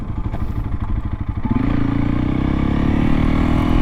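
A Honda CRF 300L motorcycle with a MotoX exhaust, airbox mod and Stage 1 ECU tune idles with a close, lumpy putter, then revs up into a loud, sustained engine drone.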